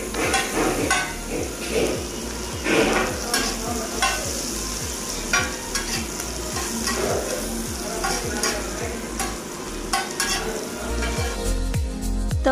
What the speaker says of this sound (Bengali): এখানে পেঁয়াজ আর শুকনো মরিচ ভাজা হচ্ছে ইলিশটা ডেকোরেশন করার জন্য